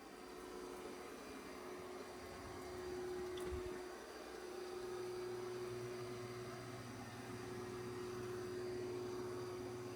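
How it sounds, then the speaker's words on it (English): A Dyson Spot & Scrub robot vacuum runs on a floor with a steady whirring hum and a constant tonal whine, shifting pitch partway through as the suction changes. "It's doing an excellent job of vacuuming"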